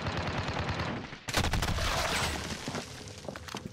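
Rapid gunfire rattles in Call of Duty Warzone on Rebirth Island, dense bursts of automatic shots that surge suddenly after a moment of scattered pops, then trail into sporadic distant cracks.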